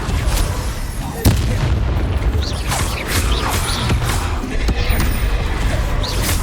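The Bombarda explosion spell in the video game Hogwarts Legacy, deep booms and crackling blasts in a busy combat mix with a voice speaking over it.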